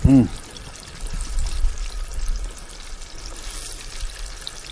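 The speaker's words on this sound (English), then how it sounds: "I like to drain that little bit of oil off of there." Frying oil draining off golden-brown fried buffalo fish, a steady close pouring trickle with faint sizzle that runs throughout after an opening thump.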